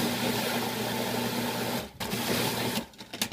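Chia seed pudding whirring in a blender makes a loud steady motor drone that drops out briefly and then resumes before stopping.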